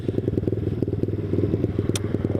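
A Boom Vader Grom-clone mini bike is ridden along, its small single-cylinder engine puttering in a steady, rapid pulse close to the mic with some rattle and wind, and no talking.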